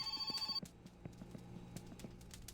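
A telephone rings inside the video game My Winter Car: a short burst of rapid electronic trilling cuts off abruptly, followed by quiet clicks and soft background thumps.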